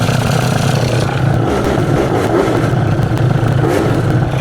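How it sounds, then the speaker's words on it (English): A scooter engine runs loud and close after its carburettor mixture screw has been adjusted, giving a continuous rough two-stroke drone with slight rises in revs and a faint mechanical clatter throughout. "we'll adjust the screw, and then we'll give it a bit of a rev and see where we're at"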